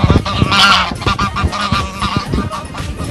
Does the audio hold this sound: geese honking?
yes